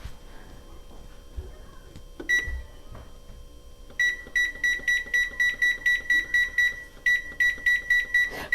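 An oven timer is set to 20 minutes for a chocolate coffee cake: a single beep, then a rapid run of sharp electronic beeps from repeated button presses, close and clear.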